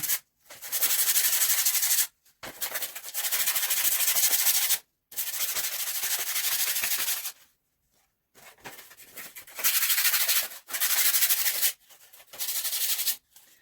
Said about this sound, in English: I have sandpaper, which they also have at Dollar Tree. And I'm just going to scrub off some paint now.